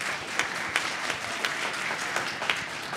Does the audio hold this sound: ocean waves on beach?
no